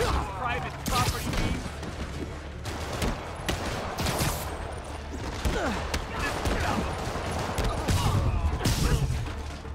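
Rocket fire and explosions in Marvel's Spider-Man Remastered on PC: a dense, continuous barrage of launches, whooshes and booming blasts with repeated sharp impacts, layered over game music and brief voices.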